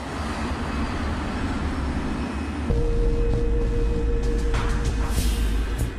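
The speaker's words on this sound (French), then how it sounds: "L'appareil de la KLM effectue sa rotation de 180 degrés et s'aligne pour le décollage." A KLM airliner turns on the runway to line up for takeoff, its jet engines a steady, broad roar that grows louder partway through, joined by a thin sustained whine and a few faint clicks.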